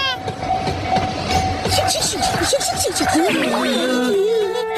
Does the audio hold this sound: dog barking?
no